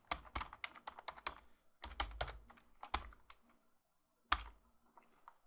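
Code being typed on a computer keyboard, bursts of rapid close clicks separated by brief pauses and a few louder key strikes, with no voices.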